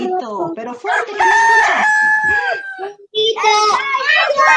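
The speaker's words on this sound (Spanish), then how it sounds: "Gallo." A rooster crows loudly and close in long, drawn-out cock-a-doodle-doo calls, heard as two crowing bursts with a short gap, amid an animal-sounds activity with children.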